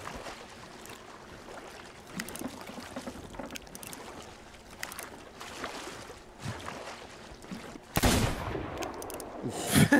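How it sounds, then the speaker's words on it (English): A gunshot rings out as a fish is shot in Sea of Thieves, a sharp loud burst near the end after several seconds of sloshing water and creaking boat ambience. "Fish goes limp as soon as you shoot it."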